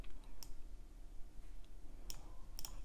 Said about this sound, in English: use my keyboard keys to move it over